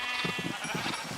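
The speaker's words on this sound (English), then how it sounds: "Now I'll get back to breeding the sheep so I have as many sheep as possible stuck in this horrible pit." Several sheep bleat in the Minecraft-style game Zombie Craft, penned together in a pit; short, loud, overlapping bleats come in quick succession over a steady game background.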